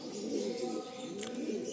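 Pigeons kept for breeding and sale at a loft in Garia, Kolkata, coo in a low, steady murmur, their overlapping throaty calls close by and continuous throughout.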